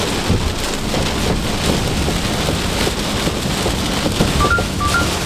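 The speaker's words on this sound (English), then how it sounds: "the weather went from light rain to insanity in literally 15 seconds" Heavy rain pours down steadily in a sudden storm, a dense continuous roar of drops beating on surfaces, with thunder rumbling low beneath the downpour; a few faint electronic beeps sound near the end.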